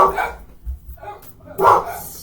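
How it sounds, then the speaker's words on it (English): Dogs barking at bin men on rubbish day in a residential street: a few close barks and yips in short bursts, with a person talking between and over them. "Dogs being dogs, they have to bark at bin men,"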